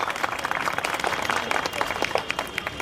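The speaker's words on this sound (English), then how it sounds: "Please give them a big round of applause." A school annual day audience claps in a dense, steady burst of applause that continues throughout.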